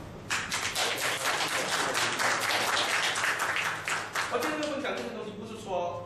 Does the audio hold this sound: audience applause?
yes